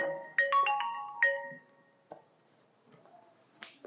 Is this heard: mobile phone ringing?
yes